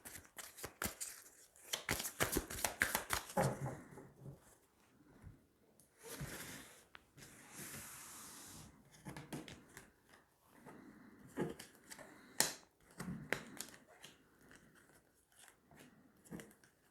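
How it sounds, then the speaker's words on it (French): Tarot cards are drawn and shuffled by hand in a quiet room, giving a close, quiet run of crisp riffles, slides and taps that come in bursts across the span, with short pauses between flurries. "on va tirer 9 cartes"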